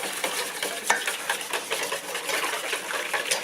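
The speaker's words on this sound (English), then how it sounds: "You're going to mix that" Homemade roll dough being mixed by hand, a steady run of soft scraping and stirring strokes that is fairly close and continuous, with no voices.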